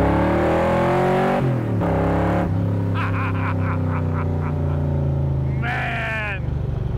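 A 1965 Shelby Cobra pulls away and accelerates, its engine note rising through several gear changes with loud revving and brief drops between shifts, close and dominant throughout.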